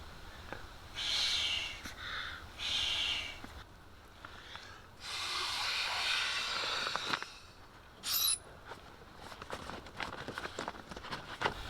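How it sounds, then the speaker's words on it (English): Several breaths are blown orally into the one-way valve of a urethane-nylon packraft, heard as close, breathy bursts of rushing air in a broken rhythm with short pauses between puffs. "we're going to do this orally just by blowing into the one-way valve here"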